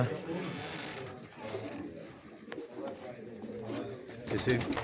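Racing pigeons gathered in crates before a race release, low cooing and fluttering shuffles in the background, with a sharp knock midway and people talking throughout.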